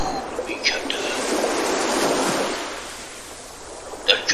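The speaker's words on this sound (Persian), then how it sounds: "رودخانه‌ای خروشان که باید از آن عبور می‌کردند" A roaring river rushes as a sound effect in a puppet show, a broad hissing surge that swells and then eases, with faint voices at the start and end.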